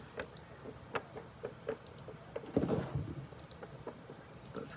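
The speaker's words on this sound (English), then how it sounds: "You can hear my printer in the background still freaking out that it's trying to print again" Faint intermittent clicking and mechanical ticking from a printer, with a brief louder whirring burst midway, all at low level in the background.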